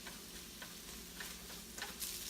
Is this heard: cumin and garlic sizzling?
yes